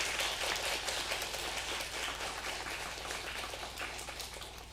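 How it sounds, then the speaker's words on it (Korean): Church congregation applauding a guest pastor at a Sunday service, a steady wash of many hands clapping, fairly distant and soft, holding evenly throughout. "일어서 주시면 다시 감사로 박수를 전하도록 하겠습니다"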